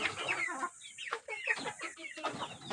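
Pet chickens clucking close by before being fed in the morning, a busy overlapping series of short clucks and squawks.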